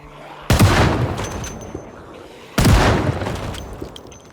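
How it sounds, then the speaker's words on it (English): Gunfire in a zombie video game: two loud, sharp blasts about two seconds apart, each followed by a long rumbling decay, with no one speaking. "Trying to do 3 shots, turn around, and then reload."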